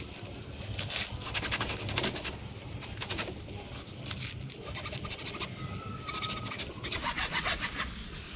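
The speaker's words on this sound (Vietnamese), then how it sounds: "Cưa cây cồn ra, cưa này lâu rồi." A hand saw rasps through a bougainvillea branch outdoors in rhythmic back-and-forth strokes, two runs of sawing with birds cooing nearby.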